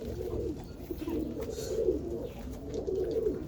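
Danny Courtney pigeon hens coo in a loft on a hot morning, soft repeated throaty coos overlapping at close range amid faint rustling.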